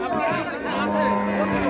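Cattle low loudly and close by at a busy cattle market in Naogaon, Bangladesh, a sustained moo with crowd chatter and voices mixed in underneath.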